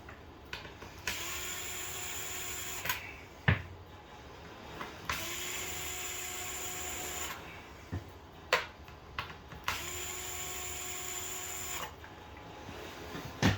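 Hand tools working on a chassis brace being removed ahead of the front skid plate, giving repeated ratchet-like whirring bursts of a few seconds each, broken by sharp clicks and clacks, close and moderately loud.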